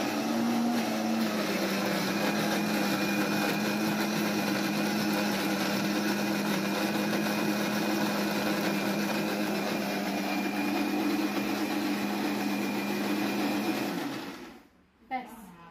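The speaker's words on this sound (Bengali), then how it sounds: "এখন এগুলোকে জাস্ট এক দুবার গ্রাইন্ড মানে ঘুরান্টি দিয়ে গ্রাইন্ড করে নেব" Electric grinder blending chopped mangoes, a steady loud motor whine and churning that runs continuously for about fourteen seconds, then cuts off abruptly with a brief clatter at the end.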